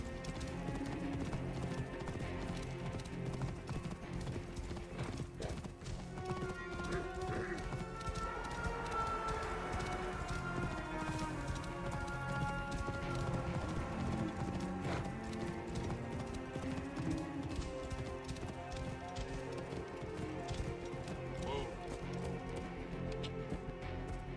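A horse gallops steadily in Assassin's Creed Origins, its rapid hoofbeats drumming loud and close throughout, with brief neighs mixed in.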